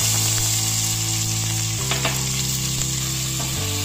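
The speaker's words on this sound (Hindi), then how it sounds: "इसमें हम डालेंगे 1 चम्मच जीरा। इसको चलाएंगे और इसके साथ ही साथ हम इसमें डाल देंगे ये कटा हुआ प्याज और हरी मिर्च" Chopped onion and green chilli frying in hot oil with cumin, a steady loud sizzle filling the foreground with faint stirring scrapes now and then, no voices.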